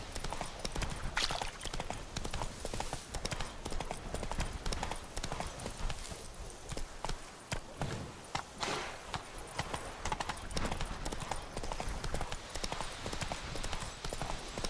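Horse hooves clopping at a steady, fast rhythm while riding in The Witcher 3, close and continuous with rustling movement underneath and no talk over it.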